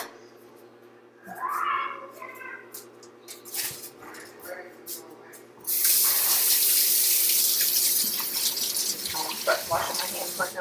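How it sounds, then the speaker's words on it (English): A kitchen tap runs at the sink while hands are washed during pie crust making, a soft trickle first, then a loud steady gush of water from midway on, with a dog whimpering early. "But washing my hands right now, which you really won't have to."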